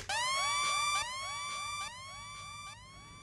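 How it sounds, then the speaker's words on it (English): A rising, wailing 808 Mafia-style siren sample in a trap beat repeats in a steady pattern, each sweep trailed by echoing repeats that stack into a layered, pulsing loop. "that's how you do the 808 Mafia chant or siren or whatever it is"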